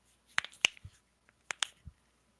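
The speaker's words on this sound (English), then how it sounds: "I cracked my knuckles." Knuckles cracking, a series of sharp, dry pops in two small bursts with a pause between, close and distinct against silence.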